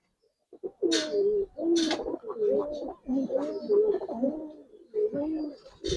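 Hericane pigeons with frilled throats (khoragola) coo in a steady run of low, throaty, repeated calls, close to the microphone, with brief pauses between phrases and a few faint chirps above.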